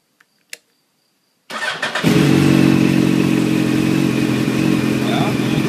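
A motorcycle engine, part of a GIPro X-type shift light setup, starts after two faint clicks, then runs steadily with the throttle raised gently, loud and close.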